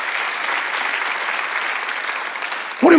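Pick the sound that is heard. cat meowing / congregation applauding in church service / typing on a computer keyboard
congregation applauding in church service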